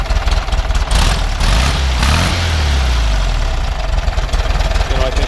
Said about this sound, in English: We'll go ahead and start it up. You can hear it run. Sounds nice. Go ahead and rev it up a little bit.